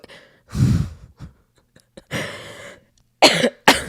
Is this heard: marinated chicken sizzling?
no